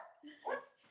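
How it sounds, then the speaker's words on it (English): A dog gives a single faint, short bark, heard at a distance and lasting under a second. "Oh wait, you have a dog?"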